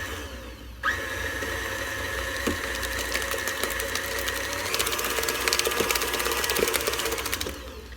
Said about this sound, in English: obviously you do not have to use a stand mixer anytime you're making banana bread